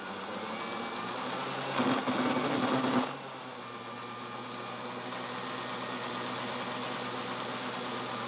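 The drive motor of a Walthers Proto GP60 model locomotive whirs smoothly and quietly at a steady pitch, with a brief louder mechanical rattle partway through.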